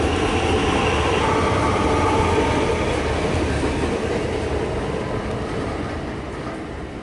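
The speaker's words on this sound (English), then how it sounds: "And for good measure, another train. This is a high capacity train." A high-capacity Melbourne suburban passenger train rumbles steadily past up close near Pakenham, wheels clattering on the rails, the roar gradually fading toward the end.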